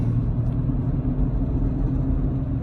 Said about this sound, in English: You can see it accelerates really good.